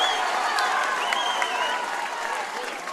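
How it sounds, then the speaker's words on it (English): Supporters at a Gaelic football Connacht senior championship semi-final in Tuam applaud and cheer steadily, a dense wash of clapping from a big crowd at a distance, with a commentator's voice faintly over it. "listen to the reaction of the supporters"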